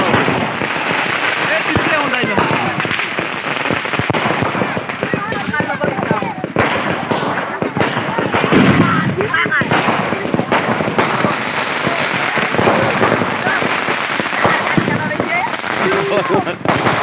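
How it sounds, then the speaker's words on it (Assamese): Fireworks and firecrackers go off at a Lakshmi Puja idol installation, rapid crackling bursts and pops throughout, mixed with lively crowd voices talking nearby. "আতচবাজি প্ৰদৰ্শন এয়া জ্বলাই দিলে"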